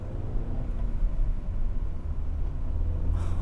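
A 1994 Honda Prelude with a manual gearbox driving along, giving a steady low engine and road rumble heard from inside the cabin, fairly constant in level with no talk.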